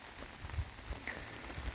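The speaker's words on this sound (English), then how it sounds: "Rain. Lots of rain." Steady rain falling outdoors during a deer hunt in miserable low-pressure weather, a soft, even hiss of drops with faint patters, quiet and continuous with no voices.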